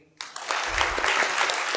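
Church congregation clapping, a sudden burst of applause that starts abruptly and continues as a steady, fairly loud patter of hands.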